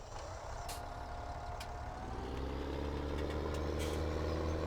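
A row crop tractor engine in the Farming Simulator 17 video game drones steadily and builds slightly in loudness, with a few brief higher clicks and beeps over the low rumble.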